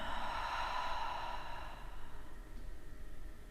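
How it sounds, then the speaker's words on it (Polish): A long, soft breath is pushed out through the mouth, a steady airy rush that gradually fades. "i długi wydech ustami"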